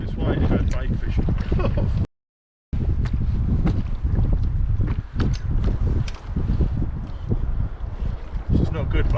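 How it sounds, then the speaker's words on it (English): Wind gusts buffet a small Whaly 435 fishing boat off the Cornwall coast, a steady close rumble of wind noise with water slaps and knocks, and voices talking over it, broken by one short dropout. "We must have come out into the wind a bit."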